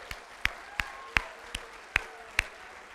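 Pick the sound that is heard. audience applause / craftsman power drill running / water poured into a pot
audience applause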